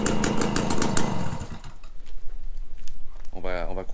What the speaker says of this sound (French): on a un bon ralenti, la mob tourne bien